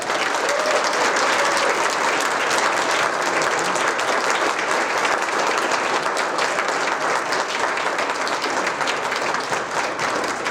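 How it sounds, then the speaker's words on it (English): Audience applause at a student leadership awards ceremony, a dense, sustained burst of many hands clapping that stays loud and even for about ten seconds with no talk over it. "Please give me a big round of applause for our emerging leader, Riley Morris."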